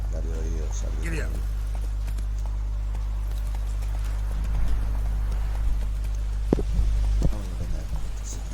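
Horse hooves clip-clop in a steady rhythm while riding in The Witcher 3, over a constant low hum, with a voice speaking early on and brief louder hits near the end.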